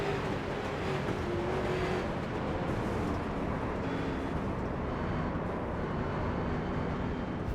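IROC series race car driving through a big wreck at the Michigan Salt Flat Racing season opener, with a steady engine drone and broadband roar that holds throughout, with no voices.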